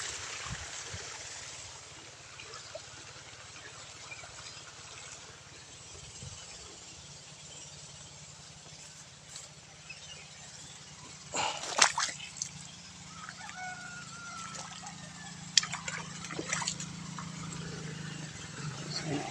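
Water running through an irrigation canal fed from a river beside a farm field, a soft continuous wash with occasional brief splashes and drips, fairly faint and steady.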